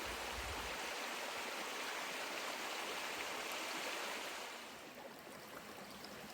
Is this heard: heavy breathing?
no